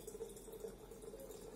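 Boiling water from a kettle pours into a pot while grape compote is being prepared, a steady close trickling and splashing stream with no talk.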